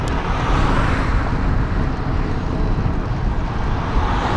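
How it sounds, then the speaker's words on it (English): Steady roadway traffic rumbles past at close range, a continuous broadband wash of engine and tyre noise with no distinct break, heard from a commuting cyclist's position. "Just watching traffic."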